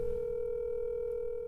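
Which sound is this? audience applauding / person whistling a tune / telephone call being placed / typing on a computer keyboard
telephone call being placed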